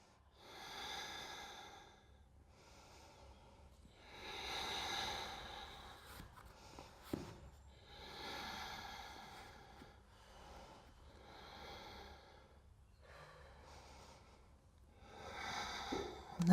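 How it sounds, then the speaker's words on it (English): Long, slow breathing during a yoga stretch for the neck and shoulders, with several drawn-out inhales and exhales rising and falling in a steady rhythm, close and soft, with no talking. "Take long, deep breaths here."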